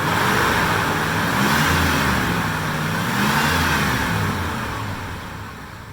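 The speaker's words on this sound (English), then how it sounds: "it really is a solid engine." A Ford Thunderbird engine runs steadily close by, a continuous mid-pitched hum with a slight swell partway through, then easing off toward the end with no voices.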